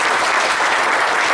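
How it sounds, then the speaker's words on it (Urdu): Dense, loud applause from an audience at an Urdu poetry mushaira in Aligarh, a continuous wash of clapping that fills the whole moment without a break. "ایک بار زوردار تالیاں ان کے لیے"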